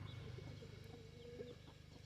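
Barred Rock chickens clucking softly on a farm, a short run of low, repeated clucks over a steady low background hum, fairly quiet and without talk.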